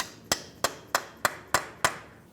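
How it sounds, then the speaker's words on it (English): A hammer strikes a punch six times at an even rhythm, driving the axle out of the wheel bearing on a 2010-2013 Ford Transit Connect, each blow a sharp, close metallic crack. "Use a hammer and punch, come right in the center of that axle, and drive it out of the wheel bearing."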